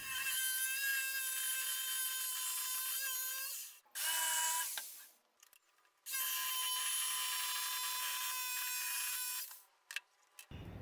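An underpowered jigsaw strains through very hard wood, giving a loud, high, buzzing whine in two long cutting bursts, with short clattering stops and restarts between them.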